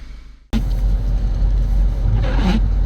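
Car pulling away and accelerating on a road test after a repair for turbo underboost, a steady loud engine and road rumble starting abruptly and holding for a few seconds.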